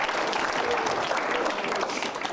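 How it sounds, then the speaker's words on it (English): An audience applauds for Grandma with a brisk, dense burst of clapping at close range, loud and steady for about two seconds before tapering slightly at the end, with faint voices mixed in. "How about a round of applause for Grandma?"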